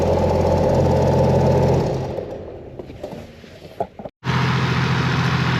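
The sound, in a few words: newly fitted 1HDFT diesel engine running in 80 series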